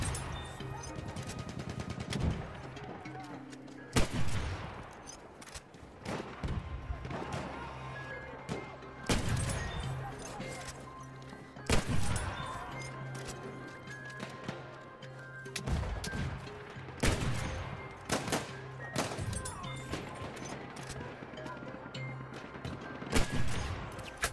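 Enemy machine gun fire on a Battlefield 1 battlefield: bursts of loud gunshots and heavy impacts recurring every few seconds, mixed with explosions and crashes over a constant low rumble.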